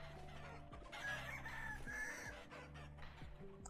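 Chickens in the video game Vintage Story cluck and crow in a short burst over steady ambient game music, a rooster-like call rising near the middle.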